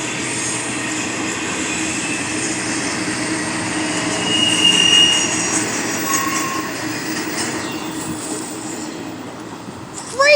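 A CP locomotive train passes on the NS Chicago line in Elkhart, Indiana, its steady rolling roar close and loud, with sustained high wheel squealing and faint clickety-clack throughout.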